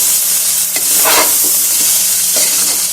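Spices sizzle steadily in a hot frying pan while a spoon scrapes and stirs through them for a fenugreek dal, with no voices.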